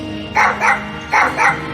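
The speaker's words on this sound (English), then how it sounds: "Oh, such a cute little dog." Small dog barking in the Tales of Monkey Island adventure game, two pairs of short, bright yips in quick succession over a low background hum, close and fairly loud.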